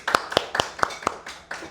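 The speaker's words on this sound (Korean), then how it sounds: "박수 박수." A handful of high-school students in a cram-school classroom clap for a classmate's birthday, about seven distinct sharp claps in an uneven rhythm, close and clear, with faint voices underneath.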